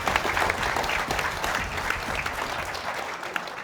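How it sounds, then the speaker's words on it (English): A crowd at a Creative Assembly game jam event gives a steady round of applause, dense continuous clapping at moderate distance with no talk over it. "big round of applause"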